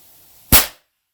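A single sharp bang from a Stevens Crackshot 16 rifle, an old single-shot breech-loader, loud and close, with a quick decaying tail and then silence.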